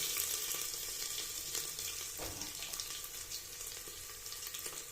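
Ginger garlic paste fries in a pan with cumin and curry leaves, giving a steady close sizzle with a soft stirring scrape partway through.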